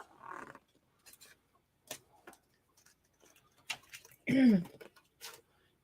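A few short, crisp snips of scissors cutting paper, spaced irregularly, with a brief spoken word near the end.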